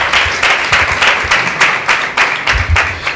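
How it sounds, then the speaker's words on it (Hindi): Church congregation applauds together in a sustained burst of claps with a loose, pulsing rhythm, loud and filling the room. "आइए एक जोरदार ताली परमेश्वर की महिमा के लिए देते हुए"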